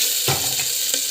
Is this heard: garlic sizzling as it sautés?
yes